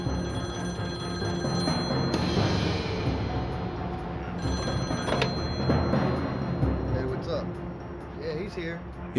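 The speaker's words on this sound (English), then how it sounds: "It was Guthrie on the phone" A telephone rings with a steady, repeating bell tone over a background of room noise, near and moderately loud.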